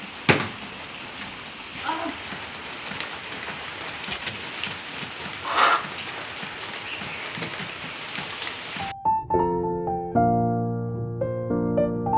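Heavy rain pours down steadily outdoors as a dense, continuous hiss with scattered louder drops, then cuts off abruptly near the end into a short burst of unrelated tonal music.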